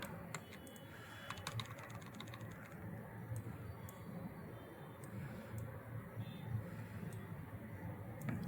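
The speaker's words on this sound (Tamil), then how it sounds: "ஸோ இப்போ நான் டைப் பண்ணுறேன்" Fingers type steadily on a computer keyboard at close range, a run of quick light key clicks over a quiet room hum.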